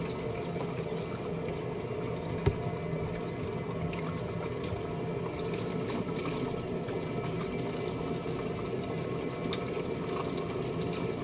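Hands being washed under a running kitchen tap, a steady even rush of water that holds at one level throughout, close by with no talking.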